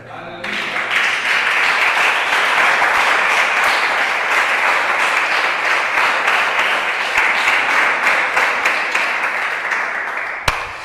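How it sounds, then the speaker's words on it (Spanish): A church congregation claps steadily and loudly for nearly eleven seconds in praise of the king during a sermon, ending with a sharp single knock. "ahora sí tiene palmas para el rey"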